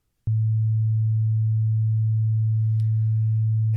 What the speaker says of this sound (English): If you were to play a sine wave, that is something that is synthetic and completely stripped of the quality of resonance, you would hear this note